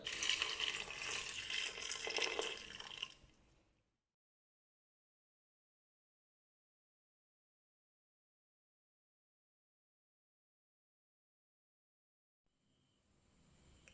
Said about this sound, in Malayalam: സോയ വേഗം പാകത്തിന് ആവശ്യമുള്ള വെള്ളം ഒഴിച്ചു കൊടുക്കാം